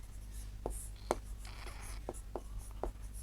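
Chalk tapping and scratching on a board in a class 6 geometry lesson, a few quiet short strokes and taps spaced across a few seconds over a low background hum.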